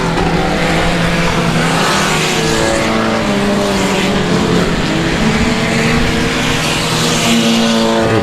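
Dirt track race cars at the South Texas Nationals qualifying night roar past in a dense, loud wall of engine noise, several cars blending together with rising and falling pitch throughout.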